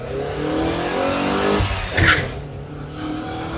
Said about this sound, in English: Chirping those tires.